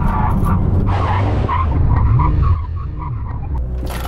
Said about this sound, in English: let's do a brake test. 70 miles an hour, line, full emergency stop.